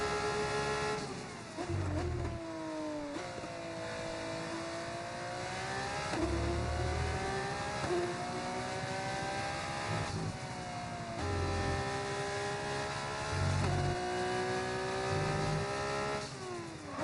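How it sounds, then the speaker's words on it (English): Formula 2 race car engines in a video game whine and rev continuously, pitch rising and falling through gear shifts, with low rumbling bursts, loud and steady throughout. "Cars are getting a little bit louder through there"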